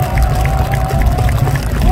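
A large rally crowd cheers and applauds in a dense, continuous roar, steady and loud throughout with no clear individual voices standing out.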